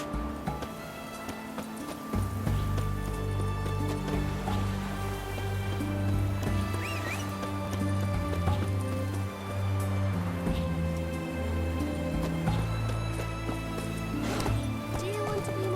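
Roach the horse's hooves beat at a gallop in The Witcher 3, a soft rhythmic thudding under a louder bed of music and ambience, with faint voices.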